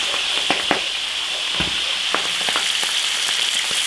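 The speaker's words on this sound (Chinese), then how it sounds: "翻过来再煎一下，" Yellow catfish pan-fries in an iron wok with a bright, steady sizzle and sharp crackling pops scattered throughout, heard up close without talk.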